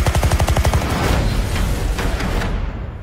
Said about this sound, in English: They've opened fire on journalists.